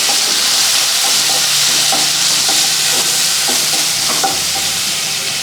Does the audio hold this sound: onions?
yes